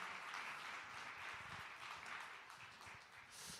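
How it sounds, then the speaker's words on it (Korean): Church congregation at a youth worship service clapping for a newly arrived pastor, a faint and distant, even patter of applause sustained for a few seconds. "큰 박수 한번 하도록 하겠습니다"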